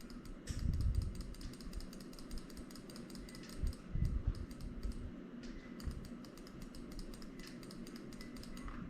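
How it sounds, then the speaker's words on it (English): A computer mouse is clicked rapidly again and again, a quick, faint run of sharp little clicks over a low room hum with a few dull thumps. "I'm clicking fast on the mouse."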